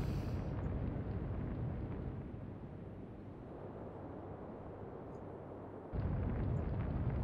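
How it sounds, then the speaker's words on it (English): Naval gun salvo in the Atlantic Fleet naval war game, heavy booming blasts rolling into a sustained rumble, then a fresh loud burst near the end. "that was a full salvo and a half"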